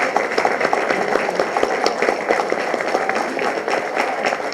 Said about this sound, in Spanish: solamente faltó un aplauso a todo el equipo de la cuarta visitaduría de la Comisión Nacional de los Derechos Humanos